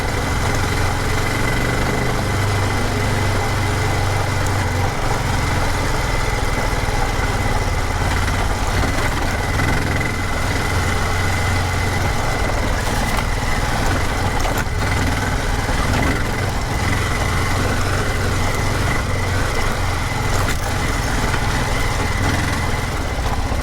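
Suzuki 800DE motorcycle engine running steadily throughout, a constant low thrumming drone with wind rush, close and continuous with no talk.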